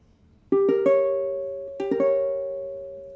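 Piano diminished triad for ear training, struck twice as a fast upward arpeggio of three notes that then sustain and slowly decay, near and alone.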